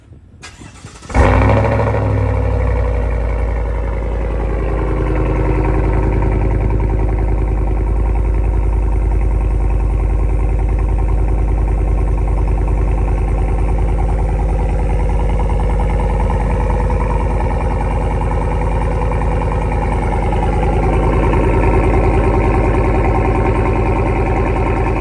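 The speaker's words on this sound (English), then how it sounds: "we'll do a cold start and then climb in the truck, see what it sounds like." A Chevrolet Silverado fires up from cold, a brief crank then a steady, loud exhaust idle with its resonator screens taped over, droning evenly and close for the rest of the stretch with no talk.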